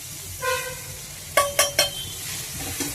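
Masala frying in oil for an egg and brinjal vadiyalu pulusu, a steady close sizzle with a few brief clinks of a utensil against the pan partway through.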